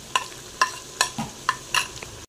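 Onions frying with garlic-ginger paste are stirred in a pan, with about five sharp, evenly spaced scraping strokes over a soft sizzle, close and clear with no talking.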